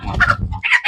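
Black chickens (karinkozhi) clucking on a mixed farm, several short close-up clucks and squawks in quick succession, loud and alone without any talk.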